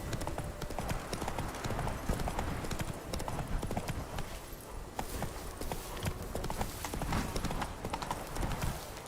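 Roach galloping in The Witcher Wild Hunt, a dense, continuous drumming of hooves at speed, loud and close, sustained throughout against a full, noisy game soundscape.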